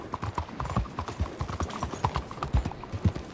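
Galloping horse hooves in the video game Red Dead Redemption 2 give a quick, steady clip-clop rhythm that carries on throughout at moderate loudness.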